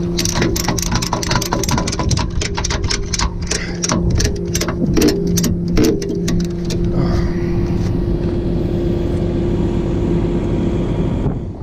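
A car is loaded onto a tow truck: a rapid ratcheting, clattering run of sharp ticks over a steady hydraulic engine drone, which then settles into a continuous loud mechanical whine.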